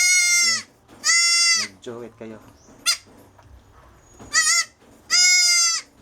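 Goats bleat loudly and close by in several drawn-out cries, spaced with short gaps, while someone speaks briefly between the calls.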